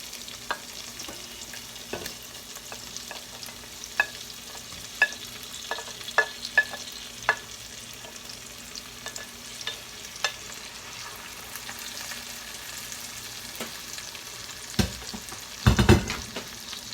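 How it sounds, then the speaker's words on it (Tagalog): Shrimp sautéing in a pan for shrimp macaroni, a steady close sizzle with scattered stirring scrapes and clinks, louder clattering bursts near the end, no talk. "Ang pasayan ako nang ilunod. Bali, igisa na ko siya."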